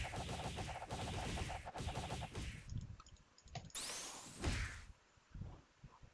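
Rapid barrage attack in the Roblox game Your Bizarre Adventure: a dense, fast stream of punching hits for a few seconds, followed by whooshing and sweeping effects.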